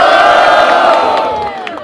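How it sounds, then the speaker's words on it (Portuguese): A loud crowd roars, whoops and cheers at a rap battle event, Batalha da Aldeia in Barueri, São Paulo, a dense, continuous wall of voices that fades slightly toward the end. "Barulho para as rimas de Drizzy"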